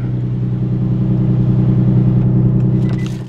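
An Infiniti G35 drift car idles with a steady, deep, loud engine hum right after starting, holding evenly before fading out with a few clicks at the end.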